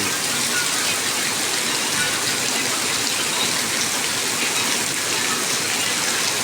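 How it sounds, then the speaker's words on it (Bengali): Dense, steady rain pouring down, a continuous broadband hiss with no pauses, fairly loud and close throughout. "দেখেন সুন্দর বৃষ্টি, মেঘলা মেঘলা আকাশ, মেঘলা মেঘলা বৃষ্টি।"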